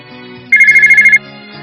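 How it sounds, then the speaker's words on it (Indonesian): A mobile phone ringtone plays as a bright, pulsing electronic trill of evenly spaced beeps, loud and close, over a soft background music bed. "Ponselku bergetar."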